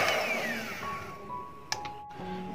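Electric mixer whirring through cake batter for a brief spin, a steady close motor hum whose pitch slides down as it slows, then a small click and a fade to quiet.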